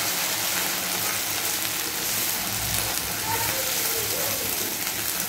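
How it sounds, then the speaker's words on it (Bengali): Ginger and garlic paste fries in a pan with browned onion for a beef liver bhuna, giving a steady, dense sizzle that crackles evenly throughout without pause. "ভালো করে একটু নেড়েচেড়ে আবারও একটু ভেজে নিচ্ছি রসুন আর আদাটাকে, যেন কাঁচা গন্ধটা চলে যায়"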